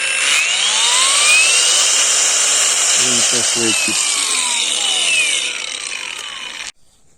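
An angle grinder whines steadily at full high speed, loud and close, with a few brief rattling bursts midway before it winds down and stops.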